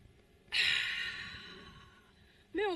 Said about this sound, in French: d'inspirer par le nez et d'expirer bouche ouverte